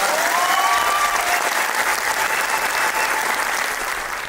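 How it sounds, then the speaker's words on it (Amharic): An audience at a motivational talk breaks into loud, dense applause, many hands clapping together in a continuous wash that fades slightly toward the end. "አጨብጭቡ።"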